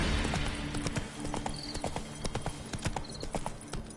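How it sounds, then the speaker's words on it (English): Horse hooves galloping in The Witcher 3, a loud, fast and steady clip-clop of hoofbeats running the whole time, with a faint whinny-like tone now and then. "Whoa there, Roach."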